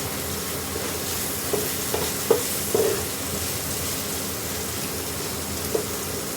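Potatoes frying in a pan just before boiled banana flower goes in, giving a steady close sizzle like light rain with a few small clinks and scrapes.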